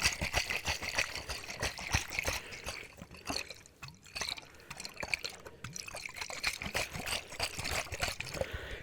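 Water trickles, drips and pours close to the microphone as an ASMR trigger, with dense irregular splashes and droplets that thin out briefly midway before building again, no talk.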